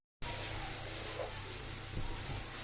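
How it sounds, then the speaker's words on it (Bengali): Garlic and ginger paste frying in a pan, a steady broadband sizzle that holds at an even level throughout, with faint clinks near the end. "এতে দেব আমি এবারে রসুন বাটা, আদা বাটা, দিয়ে এটাকে আমি ভালো করে কষিয়ে নেব"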